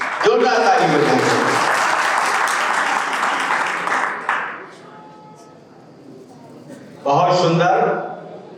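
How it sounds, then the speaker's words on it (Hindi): Loud, dense applause from an audience at an annual school coaching award function, sustained for about four seconds, fading, then a second burst of clapping near the end with voices in between. "जोरदार ताली बजाएं।"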